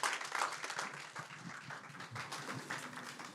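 Church congregation clapping through a worship service, a dense, steady patter of many hands filling the room, with faint voices underneath.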